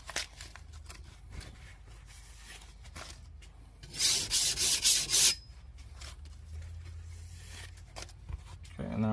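A serrated knife rasps against a whetstone, with quiet rubbing strokes followed by a louder burst of quick, rhythmic passes lasting about a second and a half, then quieter scraping. No one speaks.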